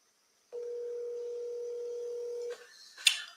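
A steady dial tone hums alone on a phone placed to call back an RV park seller, running about two seconds before cutting off into a brief quiet click and a sharp blip.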